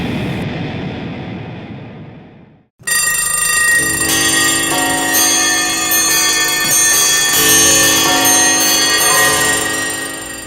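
Ticking clocks and ringing chime bells open the song, loud and layered, followed by a sustained busy stretch of many clocks ticking and chiming at once, with the ticking played on rototoms.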